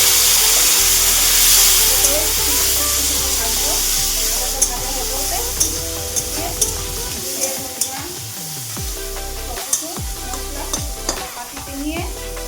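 Ginger sizzles loudly in hot oil in a frying pan while cabbage curry is being cooked, a steady crackling hiss broken by sharp spoon clinks and scraping stirs.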